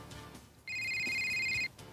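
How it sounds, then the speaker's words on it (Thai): A phone rings in a video game, one steady electronic ringtone tone lasting about a second, clear and close over quiet background. "ตึ้งตึงเสียงโทรศัพท์ใครเข้าคะ"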